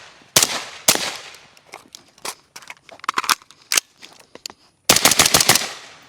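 Suppressed rifle firing PMC Bronze .223 rounds outdoors, a sharp shot followed by scattered single reports, then a quick closing burst of about five rapid shots, loud and close.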